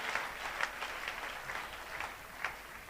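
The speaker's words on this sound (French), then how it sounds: "On applaudit pour eux." A church congregation applauds its singers, a fairly quiet, continuous patter of clapping with a few louder claps standing out.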